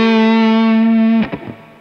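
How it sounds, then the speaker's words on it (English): An electric guitar driven through an overdrive pedal holds one thick, heavily distorted note for about a second, then cuts off abruptly into a brief, rattling decay. "you can tell right away that there is a lot of distortion that was added to that, and I'm going to add even more"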